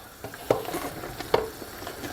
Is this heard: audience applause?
no